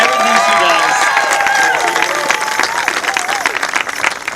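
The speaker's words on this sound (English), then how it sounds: "Give her a round of applause for everything she does." Loud, dense audience applause outdoors at an Assyrian flag raising event in Turlock, California, with cheering, whistles and crowd chatter mixed in, gradually thinning toward the end.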